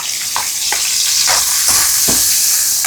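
Crushed onion, garlic and green chilli fry loudly in hot oil for a tempering, a steady sizzle close by, broken by several soft knocks of stirring.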